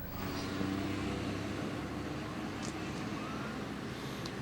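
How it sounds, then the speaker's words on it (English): Morning road traffic on a Bahamas highway near Tonique Williams-Darling Highway, a steady broadband roar of passing cars and engines at moderate distance, continuous with faint higher whooshes, no talking. "as you can tell, the traffic has increased tremendously this morning already"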